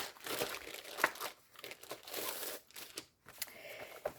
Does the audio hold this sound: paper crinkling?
yes